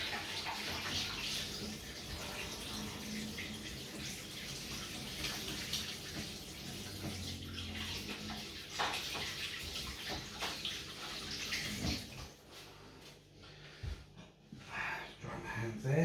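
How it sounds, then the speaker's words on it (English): Hands are washed under a running tap while making homemade salve, giving a continuous close splash and rush of water that breaks into patchier splashes and drips toward the end, with no talk. "I'm just going to wash my hands."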